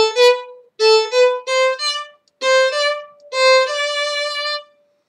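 A bowed string instrument plays a short passage of separate bowed notes in clear down-up-down strokes, close and solo, with brief pauses between phrases.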